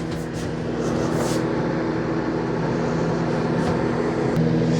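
A Galanz retro microwave oven running, a steady close hum with a constant low tone and a soft fan whoosh throughout.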